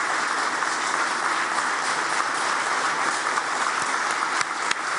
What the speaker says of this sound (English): give a warm round of applause to Taoiseach Micheál Martin and Ukrainian President Volodymyr Zelenskiy